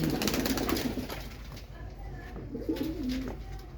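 Pigeons coo in low rolling calls, one burst near the start and another near the end, over a constant background murmur without clear speech.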